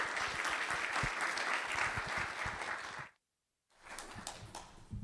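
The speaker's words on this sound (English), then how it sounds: "Let's give him a big round of applause." Audience at a policymakers symposium applauding, a dense steady round of clapping that runs for about three seconds, drops to a short silence, then resumes more thinly.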